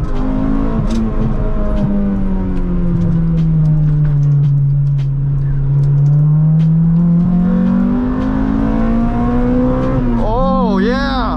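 A Honda Integra engine revs and drones as the car accelerates, pitch rising and dipping through gear changes, with a sharp rev near the end and voices underneath.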